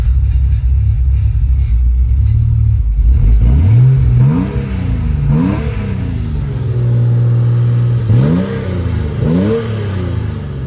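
A 1993 Porsche 911 RWB widebody built by Nakai, violet blue metallic, idles with a loud, close rumble, then blips its engine in several sharp, rising revs that fall back to idle between them.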